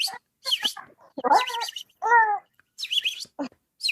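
A person whistles and warbles in imitation of a bird, a series of short chirpy bursts and trills with brief gaps, close and clear with no talking over it.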